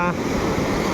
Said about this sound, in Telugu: అలా ఉంటుంది సముద్ర అలల సౌండ్